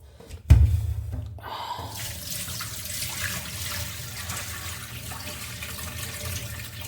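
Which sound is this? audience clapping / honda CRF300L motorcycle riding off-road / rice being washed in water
rice being washed in water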